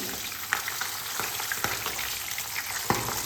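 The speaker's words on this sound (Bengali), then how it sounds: "মাছের এক পিঠ ভাজা হয়ে গেছে আমি আর এক পিঠ উল্টে ভেজে নিচ্ছি" Soft pabda fish sizzle steadily in a pan as they are turned over with two spatulas, a continuous close frying hiss broken by a few light scraping clicks.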